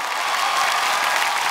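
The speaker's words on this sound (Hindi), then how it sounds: "एक बार जोरदार तालियां हो जाए मैम के लिए" Dense, continuous crowd applause fills the hall at the 22nd Indian Television Academy Awards 2022, loud and even throughout the short burst with no talk over it.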